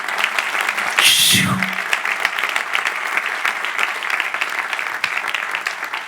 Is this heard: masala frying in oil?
no